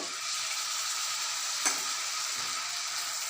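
Chopped tomatoes hit a hot pan in a Bengali fish-head cabbage dish and fry with a steady, loud, close hiss, with a brief crackle partway through.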